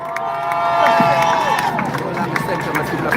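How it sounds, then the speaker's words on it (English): Crowd at a ribbon-cutting ceremony for the Morant Bay Urban Center claps and cheers, with scattered clapping, whoops and a high sustained shout over a general babble of voices. "Keep the applause going for Pika."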